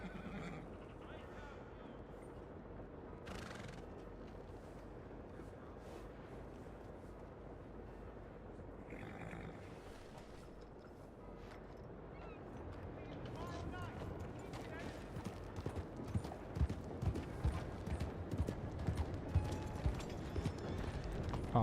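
A horse in a video game neighs and its hooves clip-clop, mixed under steady background sound with speech nearby, the hoofbeats growing denser and louder toward the end.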